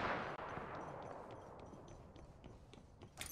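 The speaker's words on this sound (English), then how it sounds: "I am taking fire, friends." Quiet bursts of gunfire in Apex Legends: a sharp crack near the start, then a string of faint, evenly spaced shots and a closing burst, all somewhat distant.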